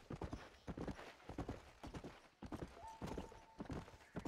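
Horse hooves clip-clopping at a steady walking gait in the Red Dead Redemption video game, a mule or donkey-like mount, with rhythmic close hoof falls and a brief faint tone midway.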